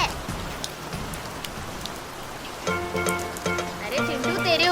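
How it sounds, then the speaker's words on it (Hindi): Cartoon rain patters steadily and softly at first, then a voice speaks over the continuing shower. "तेरे ऊपर बारिश हो रही है"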